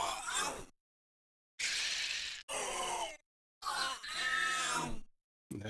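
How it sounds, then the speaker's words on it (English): Four separate goblin pain cries from a fantasy RPG forest sound pack: short strained grunts and groans, each standing alone with silent gaps between them, close and fairly loud. "And then you have goblin pain."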